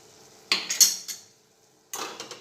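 A spoon scraping and clattering in a pan while masala paste with lemon juice is sautéed for garlicky bhungla potatoes, two clusters of sharp close metallic strokes separated by a brief pause.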